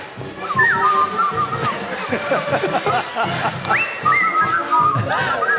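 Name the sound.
person whistling a tune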